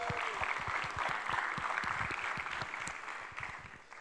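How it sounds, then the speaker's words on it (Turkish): Applause from a conference crowd at a developer event's closing keynote, thanking the sponsors: a moderate wash of clapping with distinct individual claps standing out, gradually thinning and fading toward the end. "Onları da bir alkışlayalım."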